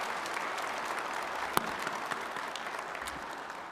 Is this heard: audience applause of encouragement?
yes